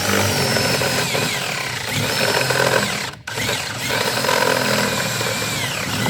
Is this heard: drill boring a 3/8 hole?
yes